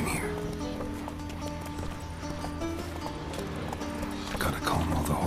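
Hooves clop and shuffle while horses whinny in The Witcher 3, restless stamping running throughout with a sharper neigh toward the end, at moderate volume against a low ambient bed.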